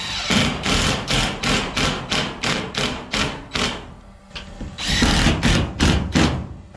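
A power drill drives screws into roof tin, about a dozen rhythmic whirring bursts with thudding contact, loud and close, a short pause midway before the bursts resume.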